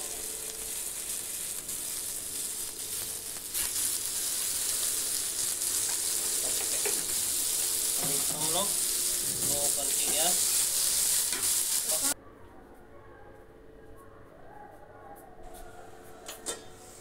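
Onions, garlic, cashews, green chillies and tomatoes cook with salt in a pan, sizzling steadily while a spatula stirs and scrapes, the frying loud and close before dropping to a softer simmer near the end; a voice speaks faintly at times.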